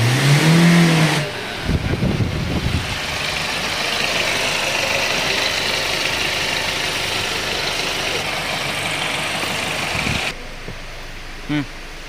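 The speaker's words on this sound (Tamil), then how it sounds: "வண்டி ரேஸ் பண்ணுறேன். வண்டி நல்லா ரேஸ் ஆகுது." A Hyundai Creta BS6 car engine runs up close with a steady loud drone after a brief voice at the start, holding a raised revving level before dropping back to a quieter idle near the end.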